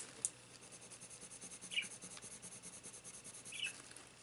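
Créart colored pencils rub softly across paper in a continuous scratchy rhythm of repeated strokes, close but faint, with a few brief brighter ticks and no talking.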